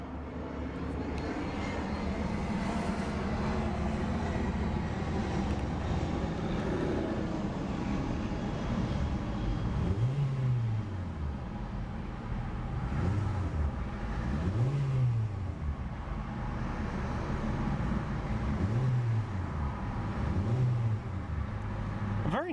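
A 2014 Hyundai Accent GLS sedan's 1.6-liter four-cylinder engine idles, then is revved several times in short rising and falling bursts through a single exhaust outlet, loud and close with no talk.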